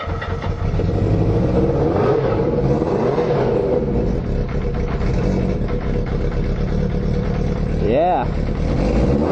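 A KZ 750 motorcycle engine fires up and runs with a loud, steady, rough idle, then revs sharply near the end, while someone speaks briefly close by.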